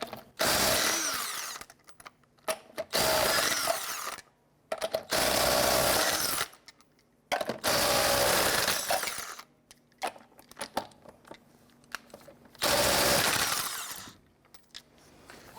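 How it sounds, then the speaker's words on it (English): A power tool with a 19mm socket spins off the lug nuts on a front wheel of a 1999-2004 Jeep Grand Cherokee, sounding as loud, repeated bursts of whirring and rattling with brief gaps between them. "Using your 19mm socket, loosen and remove the lug nuts."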